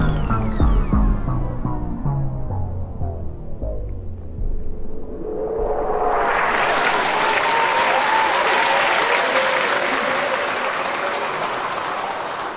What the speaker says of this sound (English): So I like that studio audience sound, because you're in a game show, right?